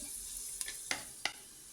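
Fenugreek seeds spluttering in hot oil inside a pressure cooker, heard as a steady quiet sizzle broken by three sharp pops.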